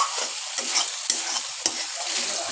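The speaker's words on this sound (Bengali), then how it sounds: "এটাকে যতই ধরে আমি কষাতে থাকবো ততই রান্নার টেস্ট ভালো হবে।" Egg korma masala with Kashmiri chilli powder being sautéed in a pan, a bright continuous sizzle broken by repeated scraping strokes of a spatula and two sharp knocks against the pan.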